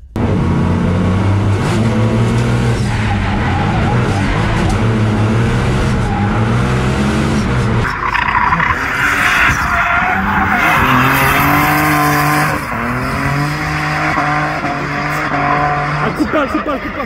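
A race car in the leisure category at the Croix-en-Ternois circuit drives hard with a loud, continuous engine drone, tires squealing and skidding through corners, the engine note rising and falling close by, with a voice announcing over the noise.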